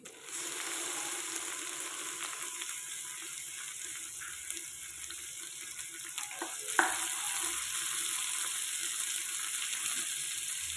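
Onion and tomato sautéing in a pan for a seven-vegetable kuzhambu, a steady low hiss of frying with a faint scrape of stirring partway through.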